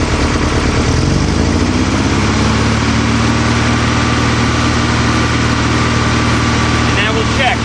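A Volkswagen Type 3 engine fitted with dual carburetors runs loudly and close up, its note rising early on from idle to a steady higher speed and then holding a rough, continuous drone.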